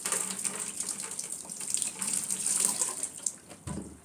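Water from a spare shower head runs steadily in a bathroom, a continuous close hiss and splatter with a brief shift in the spray near the end, with no talking.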